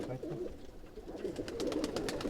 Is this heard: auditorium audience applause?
no